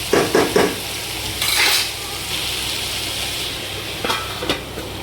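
Mushrooms and pointed gourd fry in a pan, a constant sizzle broken by close, sharp spatula scrapes and metal clinks in quick bursts near the start, again midway and near the end.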